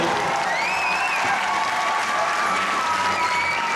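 Audience applause at a large children's and youth festival concert in Tbilisi, a sustained even clapping from a crowd with faint background vocal sounds throughout.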